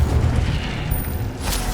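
An Incendio fire spell cast in Hogwarts Legacy: a loud, sustained roaring burst with a deep, rumbling low end and a brief brighter flare near its close, with no talking.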